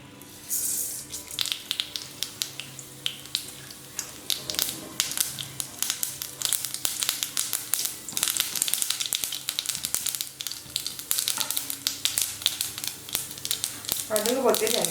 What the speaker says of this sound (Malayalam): വെളിച്ചെണ്ണ ചൂടാകുമ്പോഴത്തേനും കടുക് ആഡ് ചെയ്യാം.